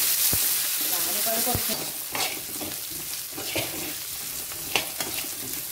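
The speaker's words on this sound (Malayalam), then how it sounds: "ഉള്ളിയൊക്കെ മൂത്ത് തുടങ്ങി, വല്ലാണ്ട് മൊരിയേണ്ട ആവശ്യം" Sliced onion fries in hot oil with mustard seeds, giving a steady close sizzle punctuated by occasional stirring clinks, while a person speaks briefly over it.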